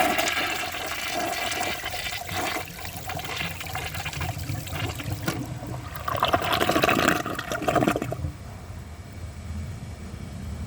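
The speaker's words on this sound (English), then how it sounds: "So I'm going to give that another flush and see if it can take the rest of the dirt." A Mansfield Alto comfort-height toilet flushing through its Pro Fit flush valve, a steady rushing gush of water swirling down the bowl, swelling into a louder siphoning surge before dropping to a quieter refill trickle.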